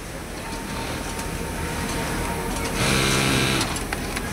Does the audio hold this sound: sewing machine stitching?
yes